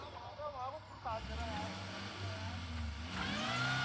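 A car revs hard while its wheels spin and slip on a snowy road near Munsiyari, the engine note rising and surging over a few seconds as people talk nearby.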